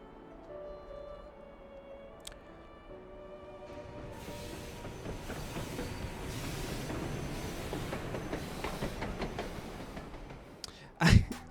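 In the Digimon Time Stranger video game, a train Digimon rumbles along with a steady, building clatter that swells in loudness, ending in a sharp burst.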